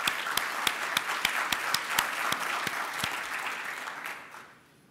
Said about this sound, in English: I'd actually like to suggest we give him a round of applause for his contribution.